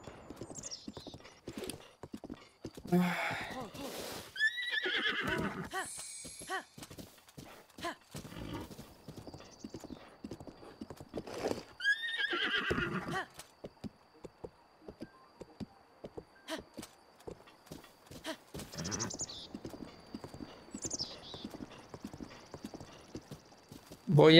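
A horse in Zelda: Breath of the Wild trots and gallops with rapid rhythmic hoof clip-clops, letting out several loud whinnies and snorts along the way, close up in the game's sound mix.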